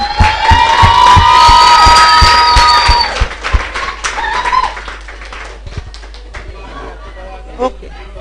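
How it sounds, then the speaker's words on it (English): Audience cheering, whooping and applause for a community theatre cast at the end of a show, loud at first with high shouts over clapping, then fading into lighter scattered claps. "So let's give them a round of applause."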